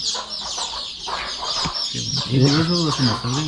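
Village chickens in a Konkan poultry farm cluck and call close by, a busy run of short clucks building toward the end against a steady background hiss.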